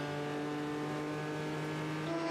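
A Corvette race car at Le Mans accelerates down the straight, its engine a loud, sustained, steadily rising drone with no pauses.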